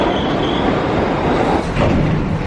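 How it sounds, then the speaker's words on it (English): A New York subway train rides along with a loud, continuous rumble of wheels on track, a brief metallic squeal rising partway through. "That was a very nice subway ride."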